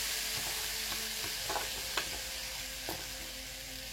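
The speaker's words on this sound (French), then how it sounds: "Là, vous mettez vos oignons dans l'huile chaude." Sliced onions, about 500 grams, frying in hot oil: a soft, even sizzling hiss throughout, fairly quiet, with a couple of faint utensil taps.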